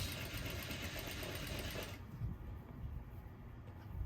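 A sewing machine back-stitches fabric for a scrunchie, a steady close whirring run that cuts off abruptly halfway, leaving quieter handling noise.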